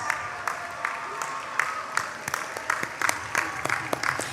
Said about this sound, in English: offer a round of hearty applause to your families and your communities